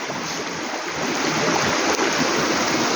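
River water at Lawagan rushes along in a steady, full broadband wash, close and fairly loud, building slightly after the first second with no voices present.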